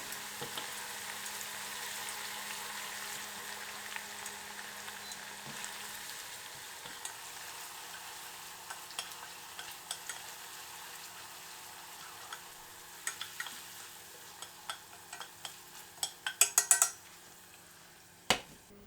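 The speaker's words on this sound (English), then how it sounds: "Add in the chopped green onion, stir in quickly, then turn off the heat." Chopped green onion stirred into hot oil in a pan for scallion oil, a steady soft sizzle throughout with scattered light scrapes and clinks of the utensil growing busier toward the end.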